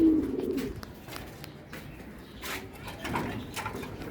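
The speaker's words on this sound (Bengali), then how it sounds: "কী কী আছে আমার বাসায় কবুতর।" Pigeons coo in a home loft, soft low rolling calls close by, with faint rustling and wing movement between them.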